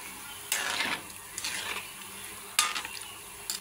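Cheese butchi frying in a pan while being stirred, with several sharp scraping bursts of utensil against pan over a soft background sizzle, spaced irregularly and close.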